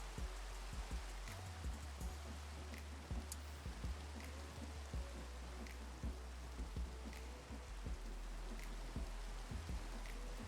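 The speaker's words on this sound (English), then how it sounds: "And it's raining." Steady Minecraft video game rain, a dense even hiss of falling drops that carries on without a break, with faint scattered clicks and a low hum underneath and no talking.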